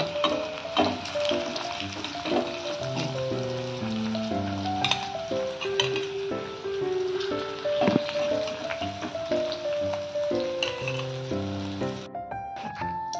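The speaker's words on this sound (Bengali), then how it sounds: "আমি এই যে কুচি কুচি পেঁয়াজগুলো একটু বেরেস্তা বা ভাজা করে নিচ্ছি।" Chopped onions frying in hot oil until browned, a steady dense sizzle running throughout with occasional stirring clinks, while music plays over it.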